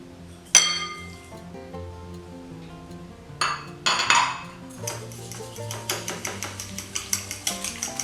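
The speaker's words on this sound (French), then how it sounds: "Je mélange bien le tout." Eggs, melted butter and sugar are mixed in a bowl for puff beignets, beginning with a few sharp clinks and knocks, then settling into a quick, regular tapping of a utensil against the bowl.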